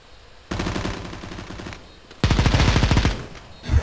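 Two long bursts of rapid automatic gunfire in a competitive CS:GO match on the Cache map, the second louder and closer, with a quiet pause between them.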